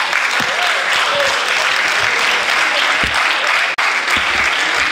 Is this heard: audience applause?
yes